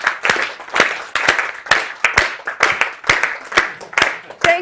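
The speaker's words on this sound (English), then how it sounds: "Everybody just clapping." A lecture audience claps in a steady, repeated rhythm of loud group bursts, roughly two per second, close and sustained with no pauses.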